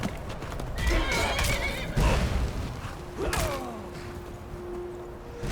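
A horse in the video game Skyrim whinnies loudly, up close, over clattering hoofbeats and a few thuds, with a second rising neigh near the middle.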